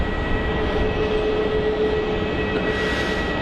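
A Batik Air airliner taxiing toward runway 34 at an airport: a steady jet engine whine with a sustained hum runs throughout, fairly close and even in loudness, with no voices.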